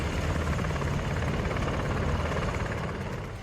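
Apache military helicopters fly overhead, a steady, loud broadband rotor and engine roar that holds unbroken for the whole stretch with no voices over it.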